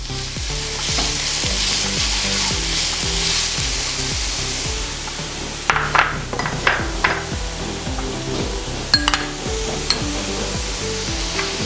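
Chopped onion frying in hot oil in a pan, a steady broad sizzle throughout with rhythmic scraping strokes, and sharper clinks and stirring knocks in the second half; no voices.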